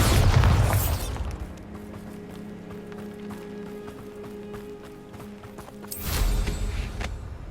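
In the video game Hogwarts Legacy, the Bombarda explosion spell goes off as a loud, close low boom at the start, followed by quieter rumbling and footsteps, then a second heavy burst near the end.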